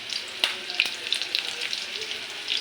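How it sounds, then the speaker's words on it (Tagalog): Garlic and onion sizzle steadily in a hot pan for chicken adobo, a continuous bright crackle with a few sharper pops and spatula scrapes close by. "Igisa ko na guys ang bawang"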